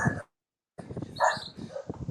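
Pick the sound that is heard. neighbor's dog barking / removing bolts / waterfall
neighbor's dog barking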